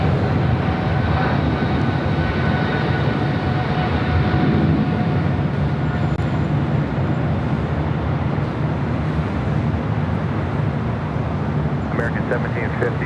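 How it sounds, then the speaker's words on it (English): A Turkish Boeing 777 rolls down the runway at LAX, a broad distant jet roar that swells and holds steady, heard alongside airport ambience and faint radio chatter. "I should be seeing that Turkish 777 rolling down to 5 at right."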